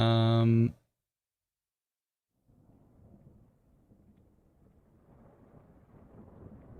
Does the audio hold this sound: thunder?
yes